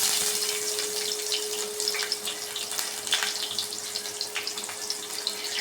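Cumin, mustard seeds and dried red chillies tempering in hot oil, a steady close crackle and sizzle with scattered sharp pops from the seeds, continuous and fairly loud throughout with no talking.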